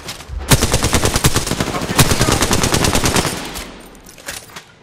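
Rapid automatic gunfire in the Apex Legends video game (Season 7, playing as Octane), a dense burst of close, loud shots lasting about three seconds before tapering off, followed by a few scattered fainter shots.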